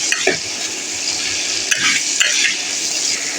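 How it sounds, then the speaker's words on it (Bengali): Chopped onions sizzle in hot oil in a pan for a chicken biryani, with a spoon scraping and stirring through them at a steady close distance and a few sharper clinks against the pan. "নেড়ে চেড়ে নেব।"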